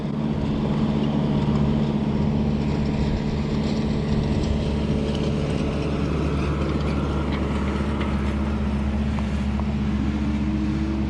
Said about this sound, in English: There's a tractor sweeping the beach,